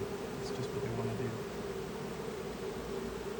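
Honeybee swarm buzzing as a steady low drone, fairly faint against a soft noisy background, with a few brief louder passes early on.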